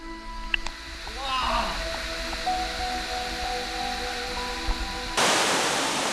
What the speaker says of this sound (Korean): 이 폭포 소리만 들어도 굉장한 그 물이 많이 떨어진다는 게 느껴질 정도로 소리도 엄청나게 큽니다